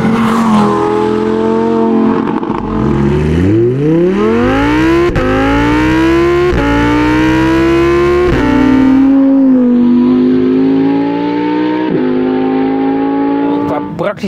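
A Lamborghini Huracán Performante engine roars loudly and steadily while driving, revving up through rising gears with sharp shifts, close and dominant throughout, with a voice heard faintly beneath it.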